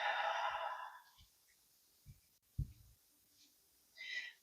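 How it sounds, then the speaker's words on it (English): Deep breathing, with a long hissy breath at the start, a few soft breath and snort-like sounds in the middle, and another breath at the end, close and fairly quiet, without talk. "I have to keep taking these big deep breaths to release the energy"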